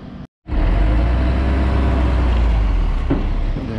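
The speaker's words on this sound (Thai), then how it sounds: "ตรงนี้ก็เทคอนกรีตอีกนะครับเนี่ยกำลังเทคอนกรีตอย่างต่อเนื่องนะครับ" A concrete truck pouring concrete for a road extension beside a bridge roars with a loud, steady engine and rumbling drum after a brief silent gap, close by and continuous.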